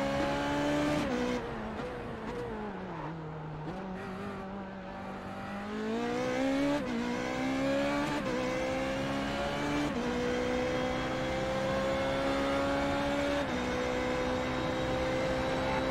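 A Formula Renault 3.5 race car engine in the iRacing sim screams loud and close, revving up through several gear shifts with sharp drops and climbs in pitch, alone without talk.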